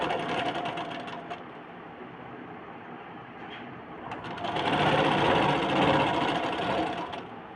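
A sewing machine stitches and locks the seam around a blouse neckline, a continuous mechanical whirring that pauses briefly and then runs faster and louder toward the end, with no talking.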